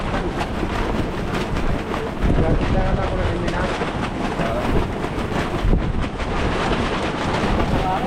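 Strong typhoon wind roars continuously, a loud, dense broadband rush with heavy buffeting gusts against the microphone and no letup.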